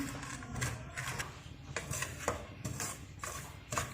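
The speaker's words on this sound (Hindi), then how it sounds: "अब हम इसको भून रहे हैं।" Semolina roasting in a pan for sooji halwa over a low flame, stirred with a spoon that scrapes and clinks against the metal in a steady irregular rhythm, close and moderately quiet, with no talking.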